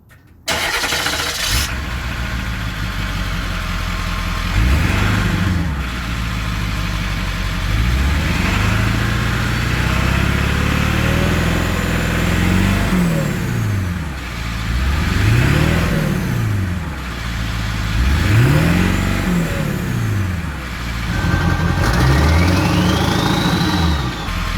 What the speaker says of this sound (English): Let's try that again now that the engine's warmed up.